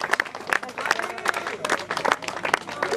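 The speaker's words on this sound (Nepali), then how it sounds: "जोरदार ताली बजाइदिनु होला कृपया।" Applause from a crowd at a Gurung wedding gathering in Naida village, Nepal, irregular clapping mixed with chatter and voices, fairly close and busy throughout.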